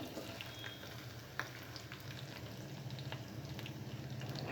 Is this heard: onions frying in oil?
yes